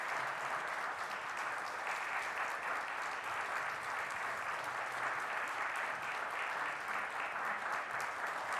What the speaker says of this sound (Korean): 선물 증정할 때는 박수 같이 해주시면 좋습니다.